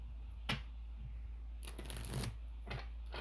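Tarot cards being shuffled by hand: a soft riffle, then a longer ruffling burst and a brief flutter, close up and quiet over a steady low hum, no talking.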